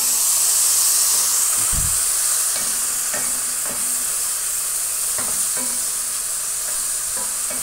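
Ginger-garlic paste fries in oil with turmeric, cumin, coriander, red chili and salt, making a loud, continuous hiss broken by sharp spoon clicks and scraping from stirring throughout.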